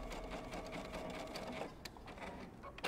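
Serger sewing machine stitching Minky Cuddle fabric for a pillowcase, a steady fast mechanical whirr with rapid needle chatter, running continuously and fairly quiet.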